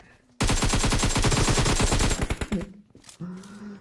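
Sniper and rifle fire in PUBG: a loud, dense burst of rapid shots lasting about two seconds, then a few scattered cracks and echoes trailing off.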